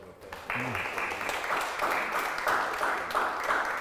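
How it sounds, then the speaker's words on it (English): A community gathering for veterans gives a round of applause: a broad, steady wash of many hands clapping at moderate distance, with a voice audible briefly near the start. "Can we give these brothers a round of applause?"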